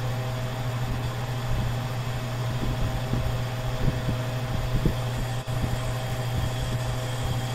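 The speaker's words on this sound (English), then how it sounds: "Now my compressor's pumping again, and it stopped almost immediately." An R290 cooler compressor runs steadily, its low mechanical hum joined by a fan-like whir, with faint irregular clicks over the drone and a brief dip in level near the end.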